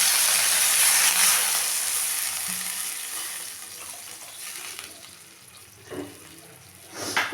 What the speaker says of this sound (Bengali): এখন আমি এটার মধ্যে জল দেব চালটাকে সেদ্ধ করার জন্য।